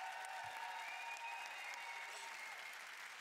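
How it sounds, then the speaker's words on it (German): Steady, dense applause from a crowd, a continuous wash of clapping without pauses, moderately distant. "Ein kleiner Applaus"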